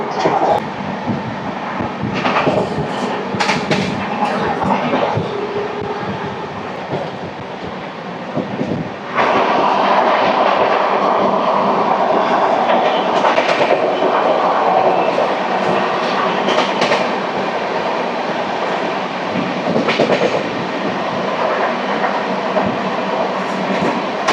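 The 12862 Superfast Express runs at about 130 km/h, a loud continuous rush of wheels and rail noise with intermittent rattles and clatters, steady throughout and without talk.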